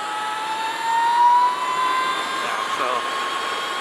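Energica Eva electric motorcycle accelerating out of a corner, a steady rising supercharger-like whine with layered tonal harmonics over wind rush, swelling briefly then holding, with some voice mixed in.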